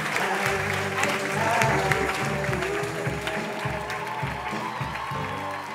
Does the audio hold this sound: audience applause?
yes